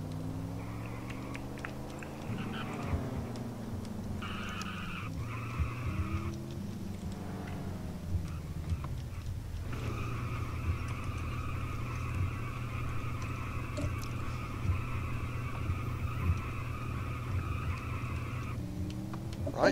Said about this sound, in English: More cars sliding all over the track,